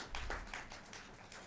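Audience at a closing ceremony clapping, a brief burst of dense, fairly faint applause with no talk.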